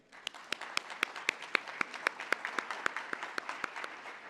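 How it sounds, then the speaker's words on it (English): Applause from the audience at a conference session on Venezuela and Cuba, a fairly quiet, steady patter of claps with a few distinct sharp hands standing out in an even rhythm. "One more round of applause for Rick."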